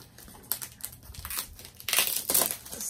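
A plastic package is cut open with an X-Acto knife, giving close, crinkly plastic rustling and crackling in irregular bursts that build to louder tearing crinkles toward the end.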